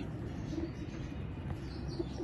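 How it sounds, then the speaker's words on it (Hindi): A pigeon coos softly a few times over a low, steady background hum, faint and somewhat distant, with no talking. "छोटी सी दुम का कबूतर है।"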